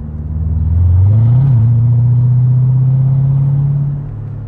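A Mercedes SLK 55 AMG, driven with the roof open in comfort mode, gives a loud, close, steady low engine rumble that swells slightly early on, then holds and eases near the end.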